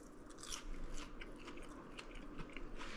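Crunchy fried spicy pickle being chewed up close, a run of crisp bites and wet crunches in quick irregular succession, fairly quiet and without talk.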